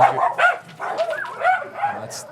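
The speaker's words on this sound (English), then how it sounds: "sorry, that was my dog's going nuts" A pet dog barks and yips excitedly in several short bursts close by, with a high whimpering yelp at the end; no words are spoken.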